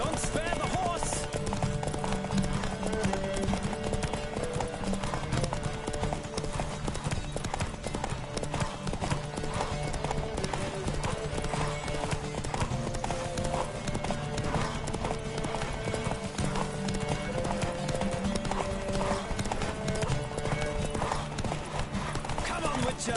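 Rapid rhythmic hoofbeats of a galloping horse in a Witcher 3: Wild Hunt horse race run steadily under busy game music, with speech-like sounds mixed in throughout.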